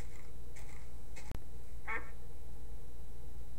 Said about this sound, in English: Quacking away.